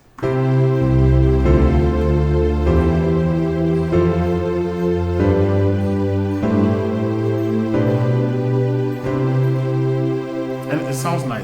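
A piano steps through an entire major scale using only three chords, a steady sequence of sustained full chords changing roughly every second or so, loud and close with no voices.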